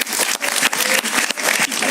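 A TV talk show studio audience applauds loudly and steadily for a Venezuelan guest, a dense wash of clapping with a few sharper bursts, close and filling the whole moment.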